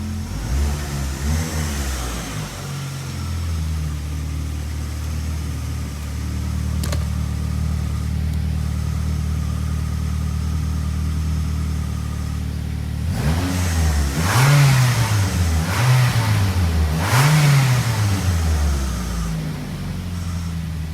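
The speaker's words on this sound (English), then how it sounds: "sounds like we might have a bearing of some sort going bad" A 14-year-old Ford Focus engine, suspected of a bad bearing, runs at a steady drone with a slight whine, then is revved in several rising and falling bursts toward the end, close and fairly loud with no talking.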